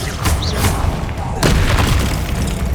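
Bombarda spell blasts from Hogwarts Legacy, a PlayStation 5 wizard game in its final boss fight: booming, thudding explosions burst and rumble one after another, loud and close, amid crackling combat noise with a voice speaking over them.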